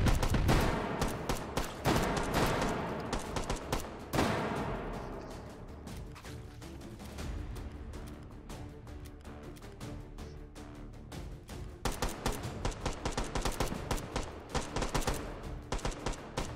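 Rapid bursts of gunfire in the VR shooter H3VR's Take and Hold mode, loud and dense, with clusters of shots and sharp transients throughout, one heavy impact near four seconds and a renewed barrage in the final stretch.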